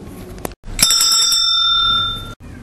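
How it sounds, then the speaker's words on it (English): A small bicycle-type bell rings loud and close, with one short tap and then a bright ring that hangs for over a second before being cut off. "bell,"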